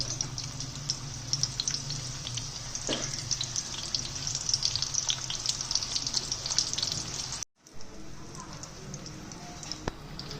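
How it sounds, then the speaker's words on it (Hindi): Malai boti parcels fry on a low flame with a steady, close, crackling sizzle and occasional pops. A brief cut of silence interrupts it before the sizzle resumes. "अब मैं इसको पार्सल को फ्राई करने लगी हूँ। ये हमने बिल्कुल लो फ्लेम पे करना है।"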